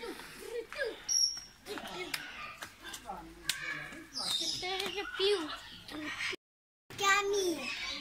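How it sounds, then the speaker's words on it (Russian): Parrots of many colors chirping and squawking in a German bird park, short bright calls scattered throughout, mixed with frequent nearby speech from adults and children and a brief dropout near the end. "куча одинаковых птиц"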